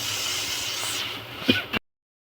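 Loti (taro stolons) sauté in a hot pan with a steady, bright hiss of sizzling, a couple of soft clatters, then a sudden cut to silence before the hiss briefly returns.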